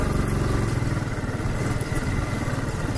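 A motorcycle engine runs at a steady low idle while the rider looks for a parking spot near a temple, a continuous close rumble heard alone.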